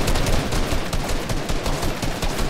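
Dense, rapid gunfire in an online shooter video game during a 3v3 match, continuous and loud for the whole stretch with no voices over it.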